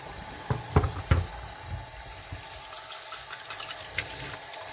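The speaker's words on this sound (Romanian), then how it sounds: "O să-i spălăm la jetul de apă să nu rămână" Deseeded peppers rinsed under a running tap, a steady stream of water with splashy thumps and bursts as the peppers are moved under the jet, close and fairly loud without speech.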